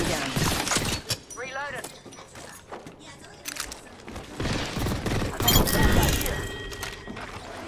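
Rapid gunfire bursts in the Apex Legends battle royale game, with loud repeated shots over busy in-game effects while players talk excitedly over the action.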